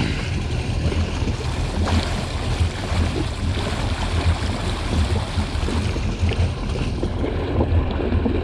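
A personal watercraft idles on open water with a low, steady engine rumble under wind buffeting and lapping waves, with no talking.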